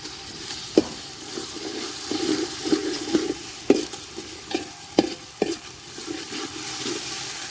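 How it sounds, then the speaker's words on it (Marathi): Ginger garlic paste sautés in a pan for village-style mutton cooked on a wood-fired stove, a low sizzle broken by repeated scraping strokes of a spoon against the pan. "यात आपण थोडं अद्रक लसूणची पेस्ट घेतोय. याला आपल्याला आता चांगलं परतून घ्यायचं आहे."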